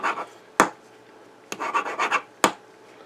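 Bolt action of an Olight O Pen being worked, three sharp metallic clicks spaced about a second apart, interleaved with soft scratchy sliding and rubbing, close and quiet.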